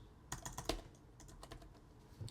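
Keys tapped on a computer keyboard while an address is entered by hand: a couple of quick bursts of clicks and a louder single keystroke, faint and close, with no talking.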